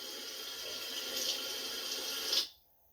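Water runs steadily from a tap at a home with a Richmond electric water heater, a close, even hiss that cuts off abruptly near the end as the flow stops.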